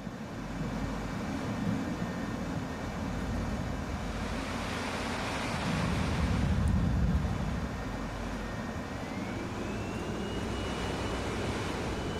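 Jet engine roar of an F-14 in Microsoft Flight Simulator, a steady loud broadband rush with a deep low rumble and a rising whine, swelling briefly mid-clip while climbing through clouds toward a beach.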